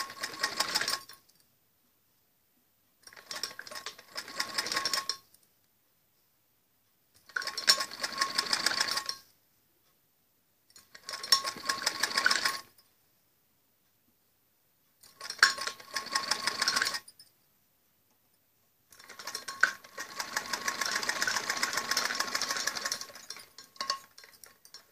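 Stitching a curved blouse seam, a sewing machine runs in six short, evenly spaced bursts of fast, soft whirring separated by silent pauses, the last burst somewhat longer.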